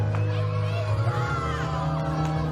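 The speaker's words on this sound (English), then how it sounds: "Listen to this crowd." Wrestling crowd at the WrestleCade 5 event roaring steadily in a large venue, a dense continuous wall of cheers and shouts behind commentary.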